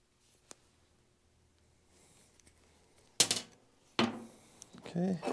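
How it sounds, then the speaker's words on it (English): A brake line tubing cutter trims the marred end of a metal pipe during a coolant leak repair on a 1943 Case SC tractor, giving two close, loud bursts of scraping, clicking cuts after a quiet stretch with one small tap. "this is just a brake line tubing cutter"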